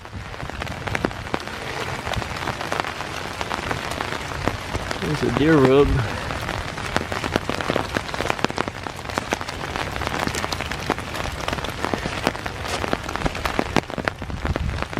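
Rain falling steadily in a wooded city park on a foggy winter morning, a continuous dense patter on leaves and ground, with someone speaking briefly over it.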